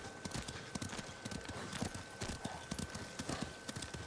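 Horse hooves clip-clop in a steady trotting rhythm while riding in the video game Ghost of Tsushima, fairly quiet, with faint game ambience and no clear speech over it.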